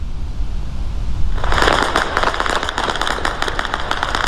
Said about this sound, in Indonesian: rentetan senjata dan ledakan terdengar di berbagai titik kota Erbil